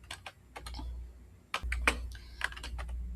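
Rapid clicks from a computer keyboard as someone types a short command in 2D construction software, bursts of keystrokes close and clear against a quiet background.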